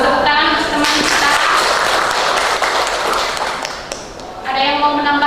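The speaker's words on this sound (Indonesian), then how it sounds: "Tepuk tangan untuk teman kita." A classroom claps for a classmate: a burst of dense, fairly loud applause lasting several seconds, fading slightly before voices return at the end.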